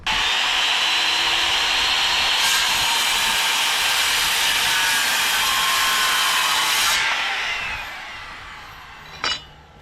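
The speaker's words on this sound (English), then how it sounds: "Finishing it with the handsaw goes really quick and easy, gives it a really nice, clean, finished look." Handsaw cutting through a wooden treehouse beam, a steady broadband rasping that runs loud and continuous for about seven seconds, then fades out, followed by a single brief knock near the end.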